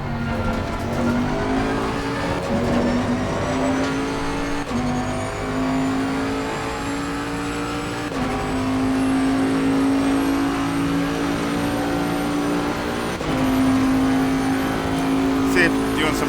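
A Bentley race car lapping Imola in the racing game Assetto Corsa Competizione, its engine a constant loud droning whine that rises and drops with each gear change across the whole stretch.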